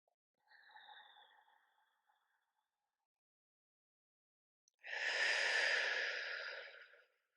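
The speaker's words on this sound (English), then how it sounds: "Taking a cleansing breath here." A cleansing breath during a yin yoga practice: a soft, airy inhale followed after a pause by a longer, louder breathy exhale, close and alone, with no talk.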